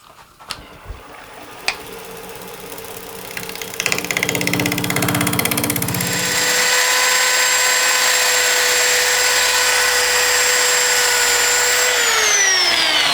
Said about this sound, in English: I'm using 80 grit right now on my little right angle drill here, and it's moving it off really well.